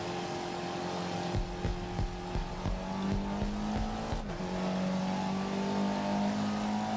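A race car in a video game on the Dubai Mountain Circuit Reverse, its engine note changing through a turn with a run of quick downshift blips and revs, then a steady high drone, loud and close.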